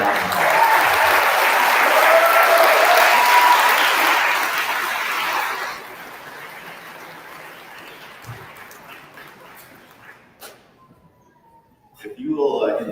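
Warm audience applause welcoming the governor at a pizza-and-politics forum, full and steady for several seconds, then tapering to scattered claps before a voice speaks.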